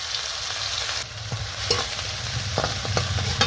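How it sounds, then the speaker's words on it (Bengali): Onions frying in oil in a pan until lightly browned, a dense, loud hiss of sizzling with a few spatula taps and scrapes as they are stirred, close up and wordless. "ওই তেলে এবার পেঁয়াজগুলো হালকা লাল লাল করে ভেজে নেব"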